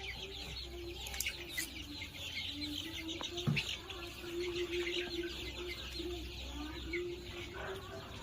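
Chicks and hens on a poultry farm make a continuous chorus of high cheeping with low clucks underneath, busy and fairly close.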